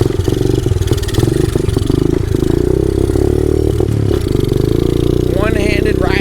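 A Honda CRF 50 mini motorcycle engine runs steadily close by, a loud, buzzing, rattly single-cylinder idle with slight revs, while a person talks over it.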